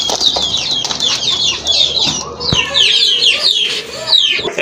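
Koka pigeons at a bird market, with busy wing flapping and fluttering, scattered coos and clucks, and dense chirping from many birds close by, going on throughout.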